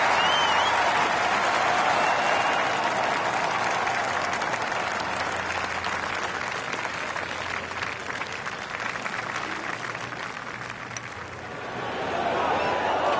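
Steady applause from a golf gallery after a bold eagle putt attempt, a dense wash of clapping that holds for many seconds and dips briefly before swelling again.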